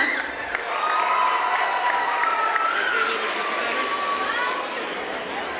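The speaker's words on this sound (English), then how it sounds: "Please give her a huge welcome applause" Steady crowd applause and cheering at a dance academy Diwali dinner as actress Neha Sharma is welcomed on stage, a continuous wash of clapping with shouts and chatter mixed in, and a voice speaking over it.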